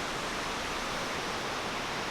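Large waterfall roaring in a continuous broadband rush, loud and steady throughout with no voices over it.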